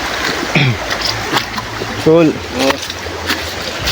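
A river flows steadily with a broad, constant wash of moving water close by, while a few people talk over it.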